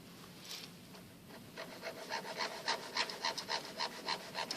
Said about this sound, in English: now I'm gonna need to remove extra wax that I do not need